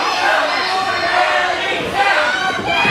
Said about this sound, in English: This crowd letting Hadley know how they feel about him.